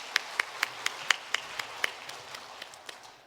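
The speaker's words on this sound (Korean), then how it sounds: "박수로 하나님께 영광 돌리겠습니다." Congregation in a church clapping together during a Sunday service, with a handful of sharp, evenly spaced claps that fade and thin out toward the end.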